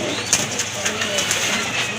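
Fancy pigeons, a male and a female of show breeds, coo softly in a few low repeated calls close by, with faint chirps and room noise around them.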